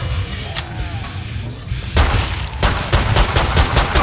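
Gunfire in Killing Floor 2 pounds in dense, loud rapid bursts, heavy booming shots layered over one another and growing thicker and more continuous after the first couple of seconds.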